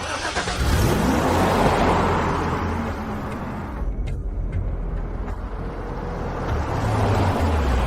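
A car pulls away, its engine rumbling steadily and close for the whole stretch, with no talk over it.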